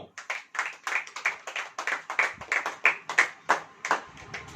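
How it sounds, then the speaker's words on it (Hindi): A church congregation claps hands together during a Hindi sermon, loud sharp claps in a quick, steady rhythm repeating throughout with no talk. "ताली बजाओ।"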